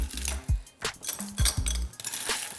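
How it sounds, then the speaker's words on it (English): Ice cubes dropped into a tall Collins glass on a kitchen counter give a run of bright clinks and knocks, some clustered and some single, close by with no talking. "Let me see if I can get some ice in this glass without getting it everywhere."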